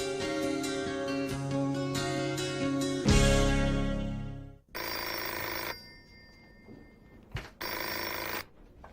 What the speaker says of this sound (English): Oh, excuse me, you've got a phone call?